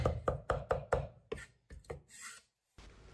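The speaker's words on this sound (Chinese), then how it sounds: "准备几粒大蒜，用刀拍匀，剁成蒜蓉" A knife crushing and mincing garlic cloves on a cutting board: a run of sharp, rhythmic close chops that slows into scattered strokes and a brief scrape before a short pause.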